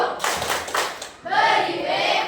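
Students in a physics classroom perform a 'tepuk wow' clap for a classmate: quick bursts of loud group clapping mixed with chanting voices, close and lively.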